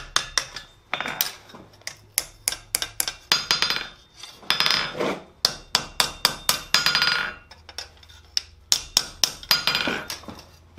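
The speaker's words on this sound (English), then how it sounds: "And we're gonna bend our hook now." A blacksmith hammers a forged Christmas tree hook into a bend, sharp metallic strikes ringing close and loud in quick irregular bursts with brief pauses between flurries.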